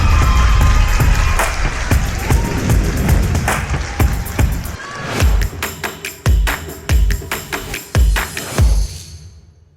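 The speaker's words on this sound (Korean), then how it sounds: "박수로 청해 듣겠습니다" A conference-show audience welcomes a speaker with loud, sustained applause that thins into distinct, slowing claps before fading out.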